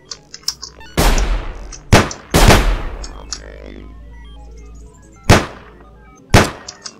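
Gunfire from the stealth survival game Sir, You Are Being Hunted: four sharp, loud shots at irregular intervals, each cracking out with a short echoing tail against a quiet background.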